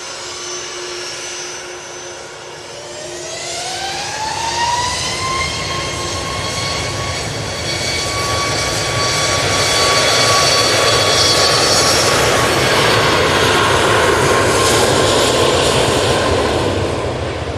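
An Aer Lingus jet inbound from Orlando touches down at Manchester Airport, its engine roar building steadily and holding loud and broad, with a rising whine that settles into a sustained tone.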